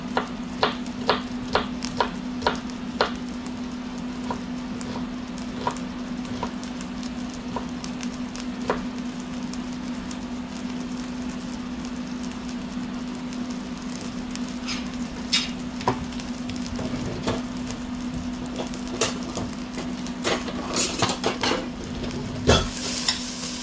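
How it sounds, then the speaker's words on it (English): Chorizo sizzling in a pan while being stirred, a steady close hiss under repeated light scrapes and clicks of the utensil against the pan, with a few sharper knocks near the end. "So we're just cooking off the chorizo."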